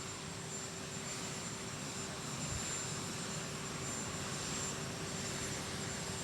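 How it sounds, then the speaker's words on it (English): A continuous broadband roar of helicopter rotor wash with a steady whine, a droning engine wash that stays constant throughout. "You can hear the backwash at this time, which is a noise from the helicopter"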